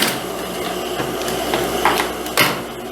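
A sewing machine stitching the seam of a wrap blouse, a close, steady mechanical whir with a few brief louder clicks toward the end.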